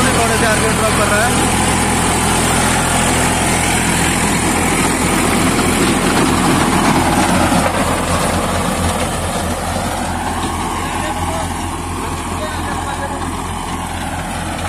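A New Holland 3230 42 HP tractor works a dry, dusty field with a 7 ft rotavator, its engine holding a steady, loud drone near 1700 rpm for the whole stretch, with no talk.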